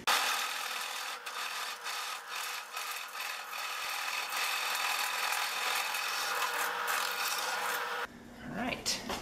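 A power drill fitted with a 2-inch Forstner bit boring into wood while building a hobby bench, a loud continuous grinding rasp that holds steady for about eight seconds before cutting off into a brief quieter scrape.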